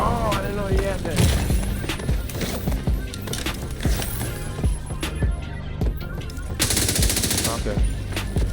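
Rapid automatic gunfire in a PVE shooter game with a fire status-effect build, dense loud bursts and repeated shots layered with game effects and someone talking over them throughout.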